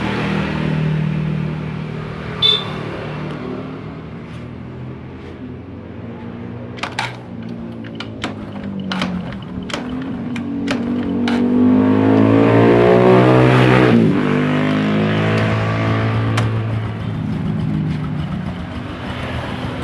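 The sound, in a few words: motorbike engine being started and running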